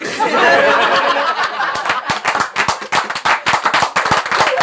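An audience at a Punjabi comedy show claps, first as a blurred wash of applause, then in sharper, sparser loud claps with a few chuckles mixed in.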